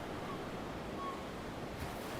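Waves breaking out at sea: a steady, distant wash of surf with soft wind noise, faint and continuous, without any voices.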